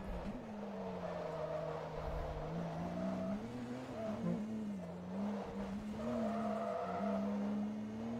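A car slides through the 130R corner in Forza Motorsport 2, its engine holding a steady drone with tyre squeal mixed in across the whole stretch, loud and continuous with no pauses.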